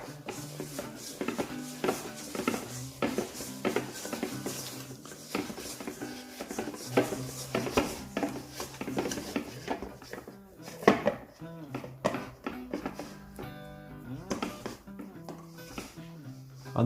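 Chapati dough stirred round in a bowl, a steady run of soft scraping, knocks and clinks from the utensil against the bowl, with no voices over it.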